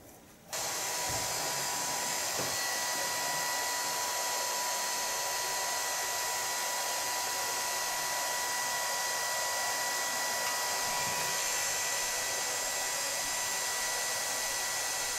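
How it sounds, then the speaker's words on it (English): A hair dryer fitted with a diffuser runs steadily on curly hair, switching on after a brief moment of quiet and then holding a loud, even blowing whir right up to the end. "I'm going to dry it with a diffuser."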